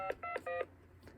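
Telephone keypad tones dialed on a custom TDM telephone switch built with Dialogic voice boards: three short, clear DTMF beeps in a quick, even sequence with pauses between them, heard alone and close.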